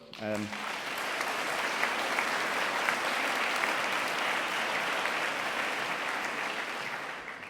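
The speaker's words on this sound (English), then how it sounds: "So you should all give yourselves, I think, a round of applause." A large audience at a school awards ceremony claps steadily and loudly for several seconds after a brief spoken phrase, the applause holding even and full throughout.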